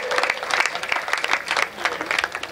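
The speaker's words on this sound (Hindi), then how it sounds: "एक बार हाथ खोल के ताली बजाइए।" An audience at a Hindi poetry gathering (kavi sammelan) claps steadily for a couple of seconds, a moderate, fairly close ripple of many hands with a faint voice underneath.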